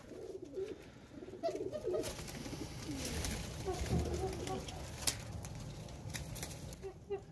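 Female pigeon, recovering after treatment for illness, cooing softly in repeated low murmurs, fairly faint, with a steady background hiss and occasional knocks.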